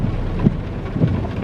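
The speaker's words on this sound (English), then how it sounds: "Like with the rain right now," Steady rain falls nearby, a continuous dense hiss with a couple of soft thuds and no voices.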